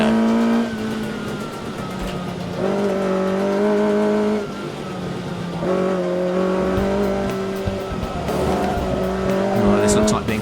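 A 16-valve Mini race car powers out of tight bends, its engine note rising loud and close with tyre squeal, under a commentator's voice.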